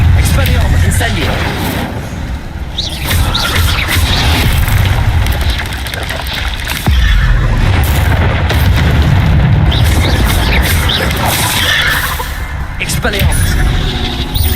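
Deep booming blasts and rumbling roars from an Incendio fire spell and duel combat in Hogwarts Legacy, loud and continuous with repeated heavy surges throughout.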